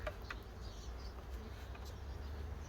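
Honeybees returning to a young nucleus hive, a soft continuous buzz of many insects around the entrance, faint and steady with occasional nearer fly-bys.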